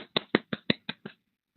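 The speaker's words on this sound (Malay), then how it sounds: "Padu tepuk tangan sikit lah." A short run of about seven quick hand claps in an uneven rhythm, close and dry, followed by a pause and then one last faint clap. No voices are heard.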